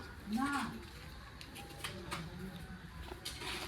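A pigeon gives a short, close coo near the start, then the scene settles into steady background noise with people talking faintly.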